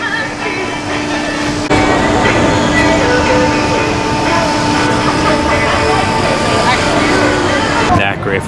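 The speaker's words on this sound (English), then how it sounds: "Little train ride for the kids." A small kids' train ride at a Christmas village in Philadelphia rumbles along amid a busy outdoor crowd, a steady mechanical drone with a sharp thump early on and a louder, fuller stretch afterward.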